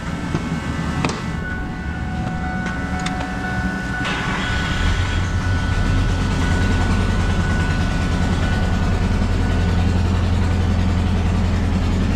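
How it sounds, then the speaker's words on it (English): A Ford 5.4 engine with a blown-out spark plug, misfiring and running on seven cylinders: an uneven, chuffing idle rumble, a couple of sharp clicks early, then a heavier steady throb. "It's only running on 7 cylinders."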